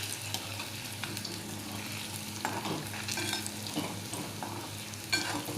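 Kachori for an Ashadhi Ekadashi fasting meal stirred and frying gently in warm oil over a low flame. A soft, steady sizzle continues throughout with occasional scraping stirs and light clinks. No one speaks.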